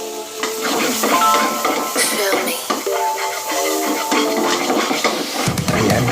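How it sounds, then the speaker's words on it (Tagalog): Onion, garlic and tomato being stirred in a hot frying pan for Waray-style escabeche, with steady sizzling and the clink and scrape of a utensil against the pan. "haluin lang naman"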